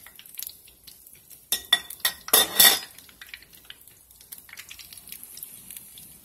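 Corn fritters being turned in a frying pan over medium heat, giving a short cluster of sharp utensil clinks and scrapes against the pan in the middle, with a quiet, faint sizzle before and after.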